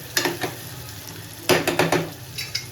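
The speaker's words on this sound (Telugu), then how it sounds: "ఇవి కొంచెం గోల్డ్ కలర్లో వచ్చేదాకా మనం ఇలా ఫ్రై చేసుకోవాలి." Ingredients for goat tripe curry fry in a pan while a spoon scrapes and stirs them. The scrapes come in sharp bursts over a soft, continuous sizzle.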